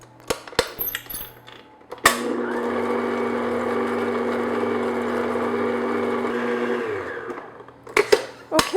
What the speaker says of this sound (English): Now I'm going to beat these just on low speed until the whites get nice and